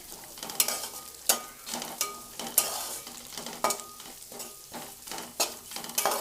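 Cumin seeds frying on a medium flame for jeera rice, giving a soft steady sizzle punctuated by regular sharp scrapes and clinks of a spoon stirring in the pan.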